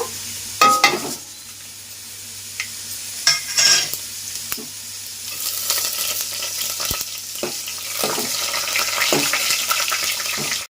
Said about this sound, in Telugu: నూనె కాగిపోయింది కదండి తాలింపు దినుసులు అయితే వేసేస్తున్నాను ఇందులో